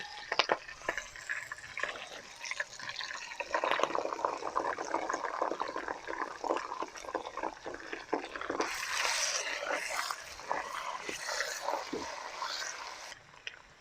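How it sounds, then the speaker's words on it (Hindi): Tomato puree pouring into a hot pan of chicken 65 with green chillies, giving a steady wet sizzle and liquid splashing that swells midway and runs continuously with no voices. "अब हरी मिर्च और इसके साथ हम डालेंगे टमाटो प्योरी"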